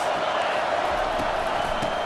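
A stadium crowd at a Minnesota versus Ohio State football game roars as a steady, dense wall of noise.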